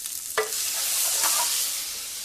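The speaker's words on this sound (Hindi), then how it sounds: "गार्लिक के बाद मैं इसमें डालूंगा थोड़ा सा पानी" Water poured into a pan of cooked garlic bursts into a loud, steady hiss of sizzling, with a couple of brief clinks at the start and no voices.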